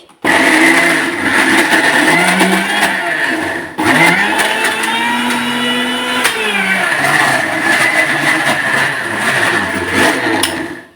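A loud mixer grinder whirs close by, its motor pitch shifting as it runs, briefly stopping and then restarting, grinding continuously throughout.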